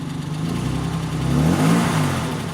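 A BMW car engine runs and rises briefly in revs before settling, a close, steady mid-pitched hum swelling midway, with no talk.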